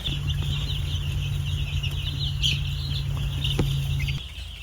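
Week-old Freedom Ranger chicks fill a brooder with a dense, steady chorus of high peeping, with a constant low hum of brooder equipment underneath that stops near the end.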